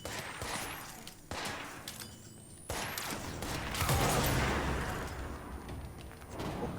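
Bursts of gunfire from a weapon in the video game Control, several sharp volleys with mechanical clicks between them, moderately loud, with no talk.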